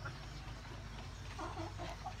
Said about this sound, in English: Let me still show you the chicken.